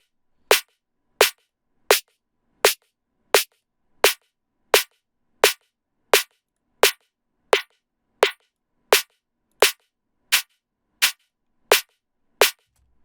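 A layered snare drum run through a mid-side compressor rack, struck in a steady, even pattern of about eighteen sharp, crisp hits with short tails, loud and alone without any voices.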